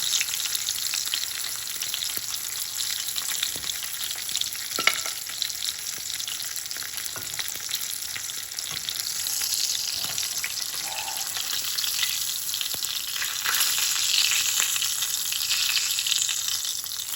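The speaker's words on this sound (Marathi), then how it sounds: "सगळे चॉप्स आमी हेच फ्राय करूया" Mutton chops frying in a pan, a continuous bright sizzle with crackling and occasional sharper pops, close and steady throughout with no talking.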